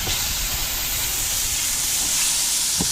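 A burger patty sizzles on a hot flat top griddle, a steady broadband hiss that holds evenly throughout with no talking.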